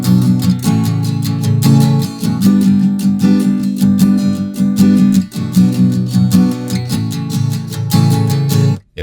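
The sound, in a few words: acoustic guitar strummed in 16th notes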